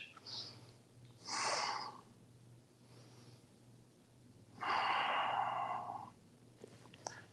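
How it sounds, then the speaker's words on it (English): During a yoga stretch, a person takes two slow, deep breaths, each an airy exhale close to the mic, separated by quiet pauses over a faint low hum. "Breathing deep to deepen the stretch."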